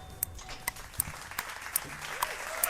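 A canned applause effect plays in a sports talk radio studio, a steady bed of clapping with sharp rhythmic clicks recurring about every half second.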